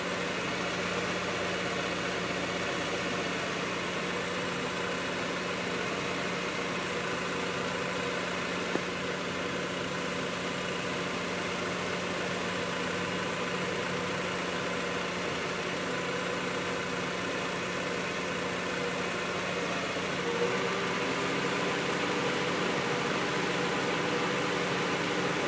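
A 1993 Honda Prelude with a 2.2 engine idles steadily for the whole stretch, a smooth, even hum with no revving and no voices.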